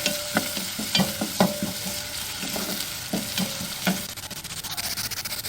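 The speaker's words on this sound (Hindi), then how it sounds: "ऑयल गरम किया है और इसमें मैं डालूँगी प्याज" Chopped onions frying in hot oil for aloo keema, a steady close sizzle punctuated by regular knocks and scrapes of a stirring spoon against the pan.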